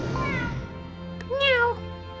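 A cat unit in the video game GrimGrimoire lets out one clear, drawn-out meow, close and distinct over steady game music.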